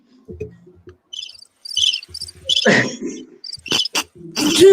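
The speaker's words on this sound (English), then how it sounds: "Crickets." Cricket chirps sound as a sound effect in short, bright trilling bursts, loud and close, spaced unevenly with brief gaps and noisy clicks between them.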